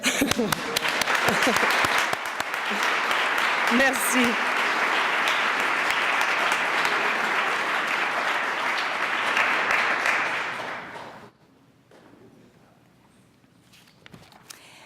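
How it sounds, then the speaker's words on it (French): Dense audience applause fills a youth recognition award ceremony, loud and sustained for about eleven seconds before fading, then a brief spoken thanks in a quiet room. "J'ai envie de vous applaudir."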